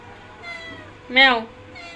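A house cat gives a loud, drawn-out meow close by, with fainter mewing sounds before it in a quiet room.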